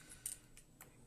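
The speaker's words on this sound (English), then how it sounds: "these are just little standard scissors and it's cutting through ever so easily" Small standard scissors cut through thin tin sheet with faint, quick snipping clicks, about three short crisp cuts close up in a quiet room.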